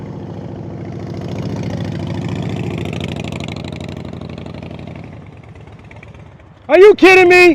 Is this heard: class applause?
no